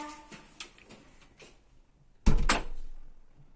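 A door bangs shut with a loud thump partway through, after quiet rustling and small movements, followed by a fading rattle.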